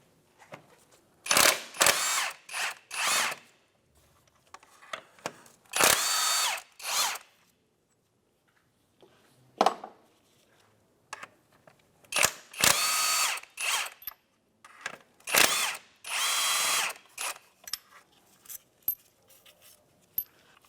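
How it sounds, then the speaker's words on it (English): Power tool driving a 17mm socket to remove four engine mount bolts on a 2011-2016 Hyundai Elantra, heard as repeated loud whirring bursts with ratcheting clicks and short pauses between runs, no talking. "With a 17mm socket, we're going to take off these 4 bolts."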